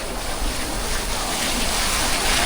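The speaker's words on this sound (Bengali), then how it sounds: "ঢেউগুলো দেখো" Sea waves wash steadily at Bakkhali beach, forming a loud, continuous roar of surf with no voices.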